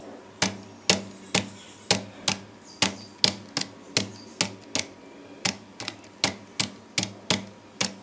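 Keys on a computer keyboard are struck one at a time at a steady pace, about two sharp clicks per second, close and clear in an otherwise quiet room during a typing game.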